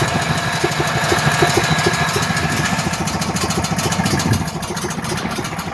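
A Duramax 8500 dual fuel generator engine runs steadily close by, a dense, rapid mechanical chug that holds a constant level with a slight shift partway through as the throttle is adjusted.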